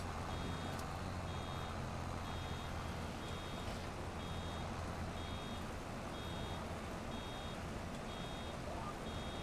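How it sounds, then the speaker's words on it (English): Repeated electronic beeping from a hay baler working a field in Alma, Missouri, a steady run of short evenly spaced beeps over constant loud engine and machinery rumble, with a voice briefly under it. "Bale definitely beeps a lot."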